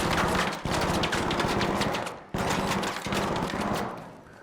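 A turret machine gun in Arc Raiders firing loud, continuous rapid bursts, close by, cutting out twice briefly before resuming and trailing off at the end.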